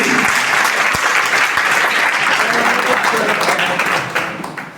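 Dense, sustained applause from a large audience at a student excellence award function, loud and steady throughout before thinning slightly at the end.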